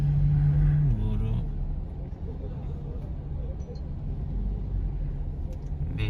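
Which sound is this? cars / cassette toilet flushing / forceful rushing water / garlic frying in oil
cars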